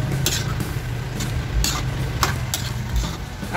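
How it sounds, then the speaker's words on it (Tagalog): A spoon scrapes and stirs ground pork with ketchup in a pan, with soft repeated scraping strokes and a low background hum, up close and steady. "Ating halu-haluin ulit"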